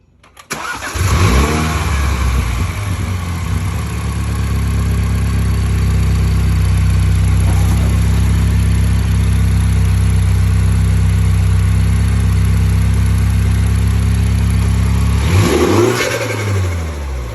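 A car up on stands cranks and catches, then settles into a steady, loud idle that rumbles on close by before a brief rev near the end.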